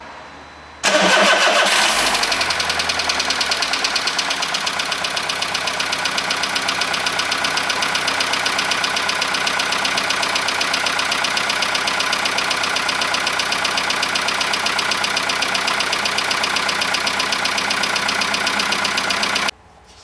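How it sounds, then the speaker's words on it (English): A Volkswagen Golf 1.4 petrol engine cranks briefly, catches and settles into a steady idle with a fast, tappety ticking, loud and close for about eighteen seconds before cutting off, with no talking. "that engine sounds really tappety"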